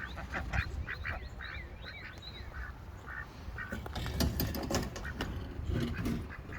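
Ducks quack repeatedly at a garden ranch, fairly faint and mixed with rustling and handling noise outdoors, with scattered sharp clicks and a busy background.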